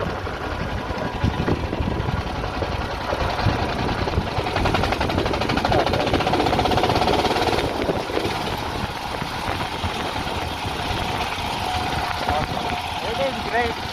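A dune buggy engine on its first test ride runs continuously with a rough, droning rumble, loud and close throughout with wind noise, while a person talks over it at times.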